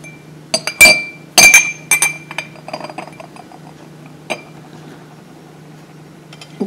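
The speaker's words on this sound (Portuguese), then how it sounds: "Então, eu vou colocar os esmaltes." Glass nail polish bottles are set down into a small pot one after another, giving several sharp clinks close by in quick succession, then a few softer taps before a final light knock.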